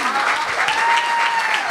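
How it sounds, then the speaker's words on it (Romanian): Guests at a christening celebration applaud the father with dense, steady clapping that fills the room, while a sustained tone rings underneath. "Aplauze pentru tătic!"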